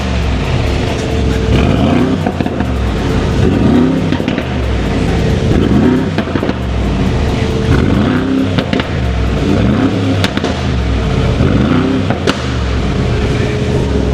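A McLaren fitted with a Veleno stainless steel catback exhaust, otherwise untuned, revs repeatedly close by, loud engine surges rising and falling in waves with brief crackles, a few words spoken faintly beneath.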